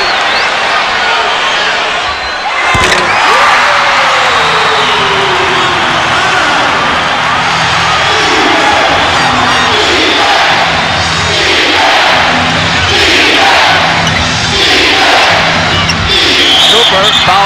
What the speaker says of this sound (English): The crowd has really gotten into it today, Brent, the best I've seen them.